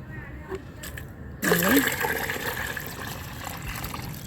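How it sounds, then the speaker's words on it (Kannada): Water poured from a container into a vessel holding jaggery for homemade plant fertilizer, a sudden steady gushing splash that starts partway in and keeps running, with a voice speaking briefly just before the pour begins. "ಈಗ ಇದಕ್ಕೆ ಒಂದು ಸ್ವಲ್ಪ ನೀರನ್ನು ಹಾಕೋತೀನಿ ನೋಡಿ"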